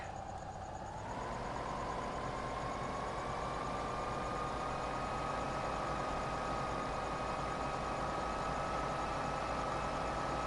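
Tractor engine in Farming Simulator 2015 on the Sosnovka map, running steadily at a constant drone after a brief rise in revs at the start, close and loud with no talk.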